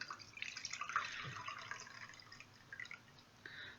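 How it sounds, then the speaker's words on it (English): Water runs into a small diffuser cup, a soft trickle with faint dripping and splashing, quiet and close, that eases off toward the end. "you fill it with water up to this little red dot"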